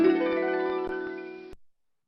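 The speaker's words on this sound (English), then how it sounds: "that last sound is a harp" A single harp tone rings out clearly with rich overtones, decaying smoothly over about one and a half seconds before being cut off.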